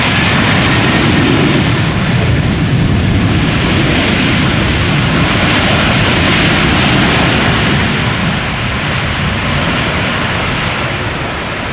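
A loud, roaring 747 jet airliner passes close by landing at Schiphol, its engine noise steady and overwhelming throughout, easing only slightly near the end.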